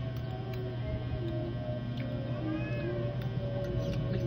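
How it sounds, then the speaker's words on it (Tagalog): Cat meowing several times, short rising and falling cries over a steady low hum of the room, fairly faint and not very close. "Ang ingay ng pusa."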